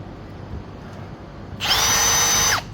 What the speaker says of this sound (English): might just be able to easier to drill the thing out.